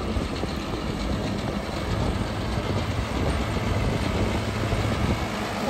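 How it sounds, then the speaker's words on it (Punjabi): A 90-cutter rotavator on a Guard World WD754 tractor, running at 1000 RPM PTO, a loud, steady mechanical roar and rumble with churning texture that continues without a break. "90 ਕਟਰ ਰੂਟਾ ਵਾਟਰ 1000 RPM PTO ਦੇ 1000 ਚੱਕਰ 'ਤੇ ਚੱਲ ਰਿਹਾ ਹੈ"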